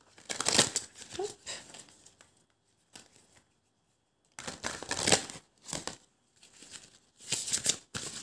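Oracle cards being shuffled and drawn, giving short bursts of papery crinkling and riffling separated by quiet gaps, close and fairly soft.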